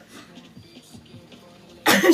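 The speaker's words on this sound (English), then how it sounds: "That was a very weird cough." A single sharp cough bursts out loudly at the end, after a stretch of quiet, low murmuring.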